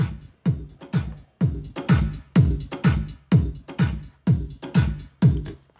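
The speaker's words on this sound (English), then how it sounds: "That is just a standard drum loop." A standard house-style drum loop from a sample library plays alone, with about eleven evenly spaced punchy kick-and-hit strikes driving a steady four-on-the-floor pulse and shimmering cymbal wash on top.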